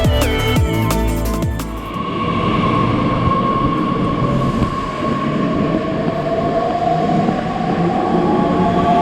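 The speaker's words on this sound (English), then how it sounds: "here we can see our train departing going on to Potsdam Griebnitzsee" A regional train from Oranienburg pulls out of Potsdam main station toward Potsdam Griebnitzsee, a steady loud rumble with a sustained whining tone building as it departs, following a brief burst of music at the start.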